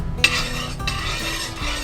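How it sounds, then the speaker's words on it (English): A spoon stirs salt into water in a pot, with a continuous swishing scrape and a few light metallic taps against the pot's side, close and steady. "we add some salt and stir well to dissolve the salt"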